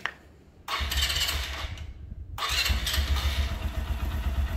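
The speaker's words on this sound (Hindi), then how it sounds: "अब बाइक को स्टार्ट करके देखते हैं हम लोग" A Suzuki GS 150 motorcycle fitted with an NGK Laser Iridium spark plug is started. A short cranking burst cuts out, then the engine catches and settles into a steady, close, loud idle with no talk.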